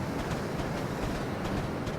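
A class 801 passenger train rushing past in Train Simulator 2015, a steady loud roar of wheels and rail noise with faint rhythmic clacks, close by and unbroken for the whole stretch.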